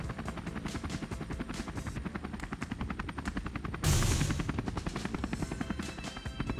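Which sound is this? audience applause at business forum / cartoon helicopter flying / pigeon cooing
cartoon helicopter flying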